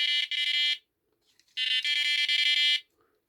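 Electronic beeping from a small fishing bite alarm receiver: a rapid double burst of high-pitched tones, a pause, then a longer run of fast beeps, close and clear.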